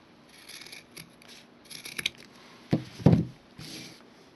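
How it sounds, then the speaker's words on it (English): Scissors trim a craft piece for a jewelry display and rose centerpiece, giving a series of quiet, close snips and crisp cuts spaced irregularly, the loudest near the end, with no talking. "I have to trim this one down a little bit."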